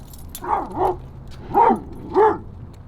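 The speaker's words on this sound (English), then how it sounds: "There's a dog in the car." A dog inside a car gives four short barks and yips, in two pairs close together, each clear and nearby over a low idle hum.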